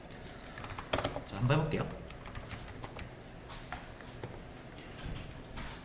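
Keys clatter on a computer keyboard in quick bursts while someone talks briefly over the typing.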